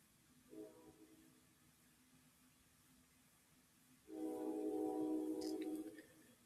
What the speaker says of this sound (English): Y'all hear that train?